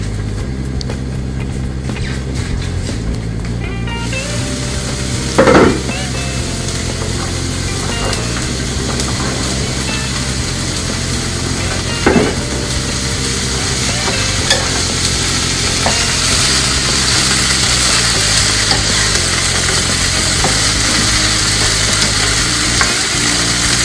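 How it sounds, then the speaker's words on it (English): Green beans sauteing in a hot pan give off a steady, loud sizzle and crackle throughout, with occasional stirring scrapes and clicks and no talking. "we are going to allow our green beans to saute for just a few minutes."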